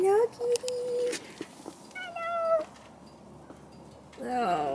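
A pet cat gives several short meows, some higher and drawn out, in a home setting, mixed with quiet background noise and bits of nearby talking.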